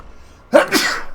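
One person sneezes close up: a single sudden, forceful burst that trails off into breathy noise after a short quiet lead-in.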